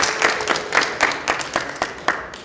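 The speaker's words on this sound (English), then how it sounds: "Big round of applause for sponsors, everyone." Scattered clapping from a small audience at a London meetup, a handful of distinct, fairly close claps in loose rhythm rather than a full ovation.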